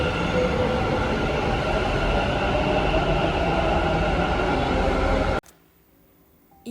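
A metro train runs through a station with a steady, loud rumbling roar of wheels on track lasting several seconds, then cuts off abruptly to near silence.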